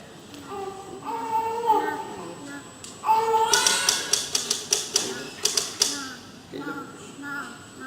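A manual typewriter clacks out a quick run of sharp key strikes, loud and close, with someone talking over the start before the typing takes over.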